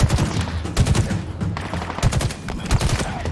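Rapid gunfire bursts in the Halo Infinite campaign rattle in quick overlapping volleys, loud and continuous, with brief pauses between strings of shots.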